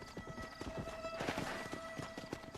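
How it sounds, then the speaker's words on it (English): A horse gallops in Red Dead Redemption, its hoofbeats a quick, even clip-clop close by, with a brief neigh partway through and faint game tones behind. "Corre, seu cavalo lerdo"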